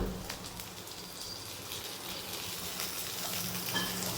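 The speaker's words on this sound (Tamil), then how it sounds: "இப்போ வெங்காயம் நல்லா வதங்கிருச்சு." Onions sautéing in a home kitchen pan, a steady soft sizzle and crackle that holds at an even level throughout, with no voices over it.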